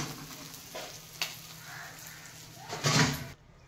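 Bhetki fish bones frying in oil give a low sizzle with occasional stirring clatter, rising to a louder burst of crackling near the end before cutting off.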